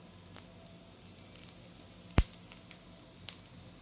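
A rice flour thalipeeth sizzles quietly in a pan, giving a soft, faint crackle with a few small pops and one sharp louder snap partway through.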